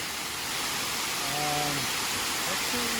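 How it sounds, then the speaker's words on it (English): A waterfall in New York's Finger Lakes region gives a steady, loud, broadband rush of falling water, with a person briefly speaking over it. "And yet one more waterfall."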